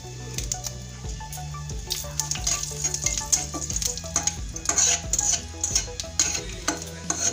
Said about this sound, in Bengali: এই তেলে প্রথমে আমি ফোড়ন দিয়ে দেব, জিরে দিলাম, এবার এই তেজপাতাটা দিয়ে দিচ্ছি।